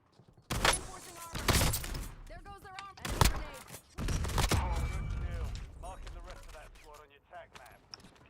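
Bursts of gunfire aimed at the player in a shooter video game, several loud broadband cracks clustered early, with people talking excitedly over and between the shots.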